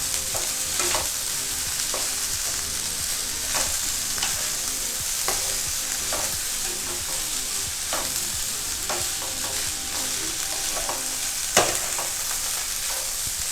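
Tinned pineapple sautéing in a hot pan for Thai prawn fried rice, a steady sizzle broken by regular scraping stirs of a spatula, close and continuous with no talking.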